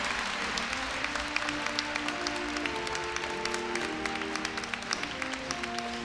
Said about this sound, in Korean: 장학증서를 받는 학생에게 큰 박수 부탁드립니다